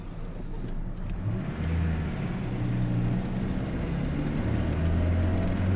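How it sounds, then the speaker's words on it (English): A 1998 Ford Ranger pickup's engine pulls steadily in second gear, a low, continuous drone that rises gently in pitch, heard from inside the cab. "it definitely wants to make noise when it goes to second"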